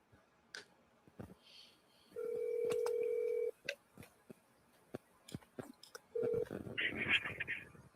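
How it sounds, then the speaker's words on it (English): A phone number being dialed: a string of short keypad tones and clicks, with two longer steady beeps and some handling noise between them, close and fairly clear. "Let's give this person a call, find out who the hell this is."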